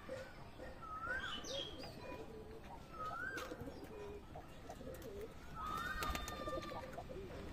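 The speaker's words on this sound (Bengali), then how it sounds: "এই দুটো শীষবাজির খেলা পায়রা, দুটোকে জোড়া বসিয়েছি" Murshidabadi Bali pigeons cooing in a loft, three soft rising coos spaced a few seconds apart over a low, steady background hiss, fairly near but quiet.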